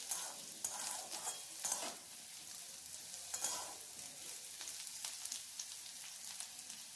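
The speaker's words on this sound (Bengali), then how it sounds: "আলুটাকে নাড়াচাড়া করে খুব ভালো করে ভাজা ভাজা করে নিতে হবে।" Potatoes fry in a pan and are stirred now and then, a soft steady sizzle broken by several louder scraping bursts from the stirring, close but fairly quiet, with no talk.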